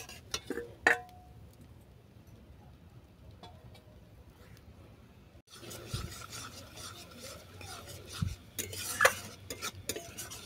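Spices with chili powder being sautéed for fish curry, quiet intermittent scraping and rubbing of a spatula against the pan, growing busier and louder halfway through, with occasional clanks.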